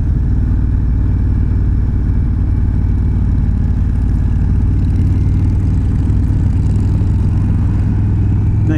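A Indian Chieftain Darkhorse 116 motorcycle engine running on the road, a steady, loud, low rumble with a lumpy pulse throughout and no talking.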